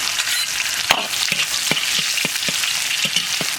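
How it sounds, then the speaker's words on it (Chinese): Pork sizzles and fries in a wok with scallion, ginger, garlic and dried chili, a steady close crackle broken by regular scraping clacks of a spatula stirring the pan. "猪肉上的油煸出来，下入葱姜蒜干辣椒"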